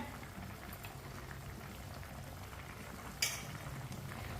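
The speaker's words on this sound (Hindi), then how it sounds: "पानी को बॉयल आ चुका है।" Water with sugar comes to a boil in a pot on a stove while cooking Punjabi-style turnips, a faint, steady bubbling hiss with a brief clink near the end.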